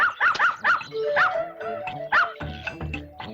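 A small dog yips and barks in quick, excited bursts, close by, with a few whimpering notes between them.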